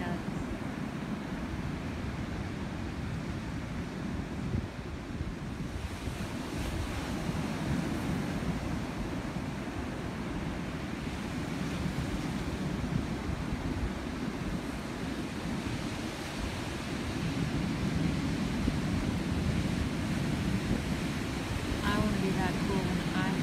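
Ocean surf rolls in steadily at a beach, a continuous broad wash of breaking waves with wind buffeting the microphone throughout.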